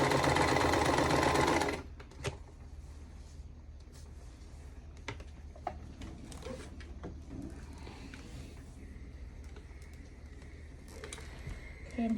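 A sewing machine stitches a seam across a Vintage Lilly quilt block, its motor whirring loud and close in one steady burst of about two seconds before stopping, followed by quiet clicks and fabric handling.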